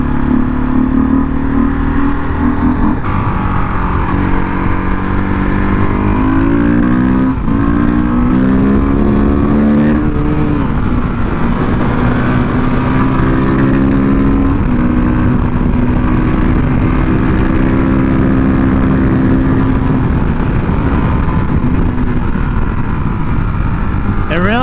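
A Husqvarna 510 SMR supermoto motorcycle engine, loud and close, droning and revving up and down in long rising and falling sweeps during a ride, with some sputter as RPM climbs and a rider's voice mixed in.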